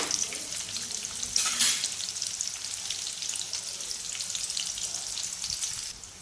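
Curry leaves tossed into hot oil with browning garlic and cumin, for crispy potato slices: a sharp burst of spitting as they hit the oil, settling into an even, close sizzle that fades slightly at the end.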